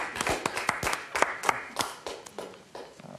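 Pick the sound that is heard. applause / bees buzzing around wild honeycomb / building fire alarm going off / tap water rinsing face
applause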